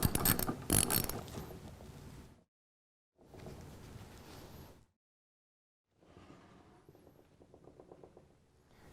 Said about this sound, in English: Now I simply replace the bolt and tighten it up.